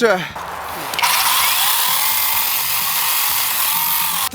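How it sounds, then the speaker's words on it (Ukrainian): A YamaMoto cordless garden saw, a battery-powered saw meant for household yard work, cuts steadily with a loud, continuous high whine after a brief start-up, running alone without any talk. "ця пилка не призначена для таких задач. Це чисто така садова пилка для домашнього господарства."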